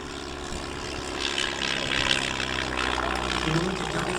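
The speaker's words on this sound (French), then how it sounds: "Ça pétarade, ça ronfle." An old propeller aircraft engine at an air show in Belvès Saint-Pardoux roars steadily and pops irregularly, close and continuous.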